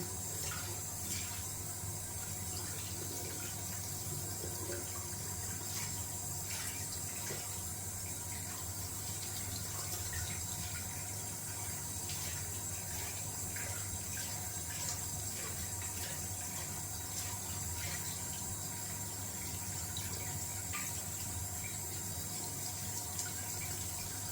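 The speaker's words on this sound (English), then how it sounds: "Wash it out. Making sure I got all the lather out of that handle." Tap water runs steadily from a faucet as lather is rinsed out of a dense synthetic shaving brush, a soft, continuous splashing with no voices.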